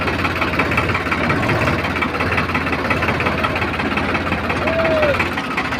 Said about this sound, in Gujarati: થોડું આગળ લઈ લે ટ્રેક્ટર।